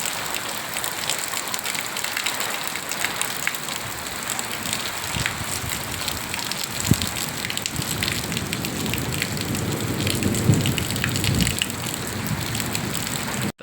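Heavy night rain pours steadily through a village storm with strong wind and lightning, a dense, close, continuous hiss and patter that runs unbroken throughout with no voices.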